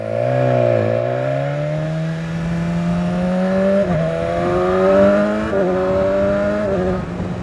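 A 2018 BMW S1000XR sport-touring motorcycle with a 165-horsepower engine accelerates hard on the Transfăgărășan mountain road, its loud, close engine note climbing steadily through gears with brief dips at each shift.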